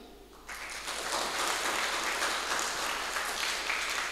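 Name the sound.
audience applause in church youth service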